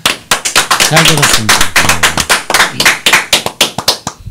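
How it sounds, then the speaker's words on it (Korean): Audience clapping hands at a Korean Marine Corps veterans' gathering, a close, loud, rhythmic run of sharp claps continuing for several seconds while someone speaks briefly over it. "박수 한번 쳐주시죠."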